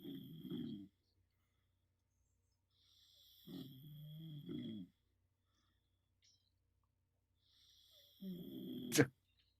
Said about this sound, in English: are people digging the snoring sounds?